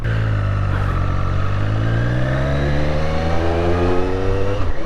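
A Triumph Street Triple RS three-cylinder motorcycle engine pulls steadily under load, its pitch rising as it accelerates, loud and close with a throaty, smooth growl.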